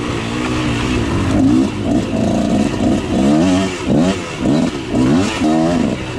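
A motorcycle on an early-season ride, its engine droning close and loud with repeated rising and falling revs as the rider shifts and accelerates, wind rushing throughout.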